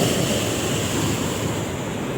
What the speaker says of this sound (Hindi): पहली बार इधर पानी के पास आया तो बहुत शोर आ रहा है यहाँ पे